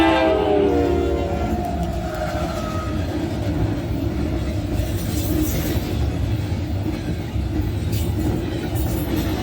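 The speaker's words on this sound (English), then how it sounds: "This unit is CSX 5500, the Spirit of Cincinnati." CSX locomotive 5500, the Spirit of Cincinnati, rolls past loud and close: a short horn blast opens over a heavy engine roar and continuous rumbling wheel and railcar noise that holds steady throughout.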